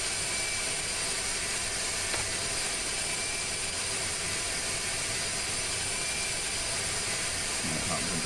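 Aircraft taking off in the video game Kerbal Space Program, a constant dense engine roar with a high whine layered on top, steady and loud throughout.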